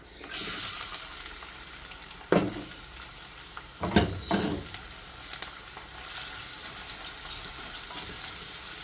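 Chopped onions dropped into hot oil for a small onion curry, sizzling steadily with a few louder bursts as they are stirred, the hiss settling back to a constant moderate fry.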